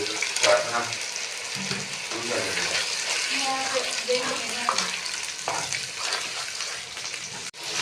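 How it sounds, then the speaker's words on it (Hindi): Chicken sizzles as it is fried and stirred in ghee-rich spiced masala in a pan, a steady close hiss with scraping and stirring throughout. "हम इसको अच्छे से इसकी भुनाई करेंगे"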